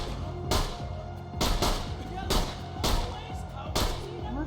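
Gunfire in a video game: about five sharp, booming shots at a steady, evenly spaced rhythm, each cutting through a continuous background bed.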